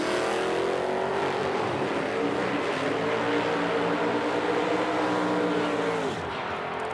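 A 1971 Chevy Nova drag car with a turbocharged 5.3 LS engine roars steadily down the strip, a loud sustained engine drone with layered harmonics that dips in pitch near the end.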